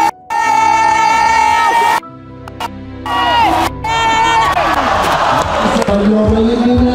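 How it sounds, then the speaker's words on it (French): Spectators at a Chamonix climbing competition cheer and whoop loudly, with shouted voices rising and falling over a roaring crowd bed and brief drops in the noise. "Envoyez de l'énergie, applaudissements pour Zélia Abedou"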